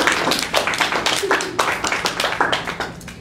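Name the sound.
audience applauding at open mic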